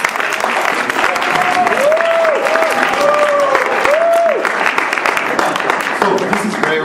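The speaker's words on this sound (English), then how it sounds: "I want to hear applause for Gregor." An audience at an award presentation applauds steadily as a presenter is welcomed to the stage, dense clapping throughout with a voice speaking over part of it.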